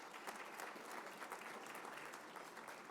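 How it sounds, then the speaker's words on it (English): Applause at the Boston Irish Honors luncheon in a Seaport hotel ballroom, a dense, even wash of many hands clapping, soft and somewhat distant, sustained throughout. "Nice round of applause."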